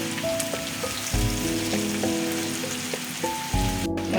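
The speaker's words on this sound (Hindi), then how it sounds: "ये देखिए हमने 2 से 4 अदद सब्ज़ मिर्च शामिल किए हैं। इसको हम तकरीबन 2 से 3 मिनट तक पकाएंगे।" Green chilies frying in masala for baingan bharta give a steady, close sizzle and crackle, with a brief louder burst of frying partway through, over faint tonal background sounds.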